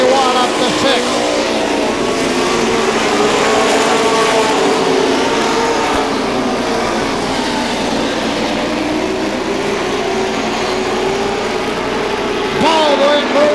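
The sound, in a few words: pro stock race cars racing on track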